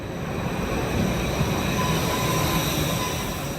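A Tashkent metro subway train rumbles loudly and steadily underground, a constant heavy roar of wheels on rails with faint high squeals running through it.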